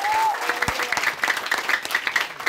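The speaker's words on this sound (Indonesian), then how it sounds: "Tepuk tangan kepada Tuhan" A church congregation clapping at a Christmas service, a brief patter of applause with a voice briefly heard at the start.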